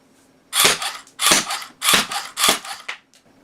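An HK MP7A1 airsoft electric gun with a faulty gearbox fires double shots, four sharp close bursts of mechanical cracks in a steady rhythm, each burst a rapid pair, loud and without talk.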